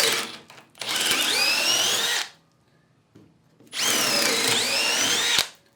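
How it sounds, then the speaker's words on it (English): A cordless drill with a half-inch bit on setting 2 bores into wood in two loud bursts of about 1.5 seconds each, its motor note rising in pitch, with a short quiet pause between them. "We put that same 1/2-inch bit and we put it on 2 and we try to drill this wood."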